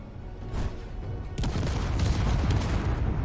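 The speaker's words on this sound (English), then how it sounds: "That was a lot of explosions." Deep, rumbling booms in the video game Space Engineers pile up into a continuous barrage of explosions, growing heavier after a sharp burst partway through.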